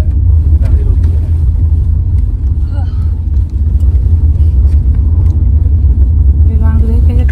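A car drives along a road on a trip toward Agumbe, Karnataka, its steady low engine and road rumble continuous and close throughout, with voices talking faintly inside the vehicle.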